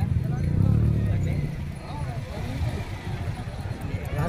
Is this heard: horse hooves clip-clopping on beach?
yes